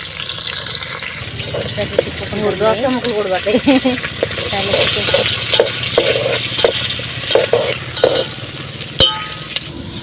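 Curry leaves and onions sizzle in a hot pan in a village kitchen, crackling steadily with bursts of spattering and a couple of sharp clanks, while someone talks over it.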